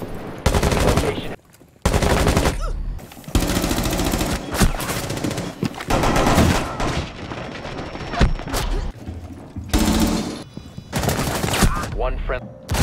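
Gunfire in the video game Rainbow Six Siege, loud sustained automatic bursts and rattling shots in dense, near-continuous volleys with brief gaps, game audio filling the whole stretch.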